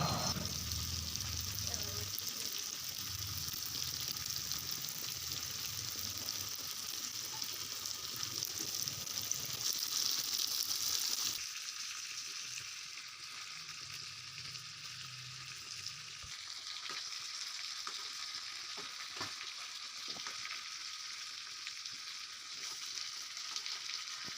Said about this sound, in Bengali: এইভাবে আপনারা ভালো করে ভুনে নেবেন আর সবসময় নাড়াচাড়া করতে হবে তবেই মাংসটা ভালো হবে কষা